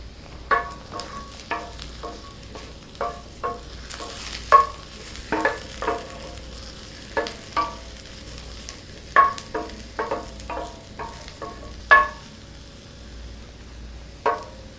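Chunky mushroom pieces fry in oil in a pan, a soft steady sizzle punctuated by sharp, irregular knocks and scrapes as they are stirred and tossed, with no talking.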